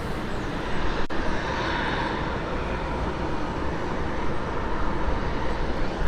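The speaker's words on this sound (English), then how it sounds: "UPS 5442 heavy inbound from Louisville 767" A UPS Boeing 767 heavy jet arrives from Louisville, a loud, steady broadband engine roar that holds throughout without fading, with no talking.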